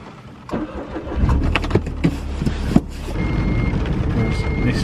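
A small car starts up and drives off across soggy grass beside a narrowboat mooring, its engine note rising and settling into a steady mid-range hum with a few sharp knocks early on.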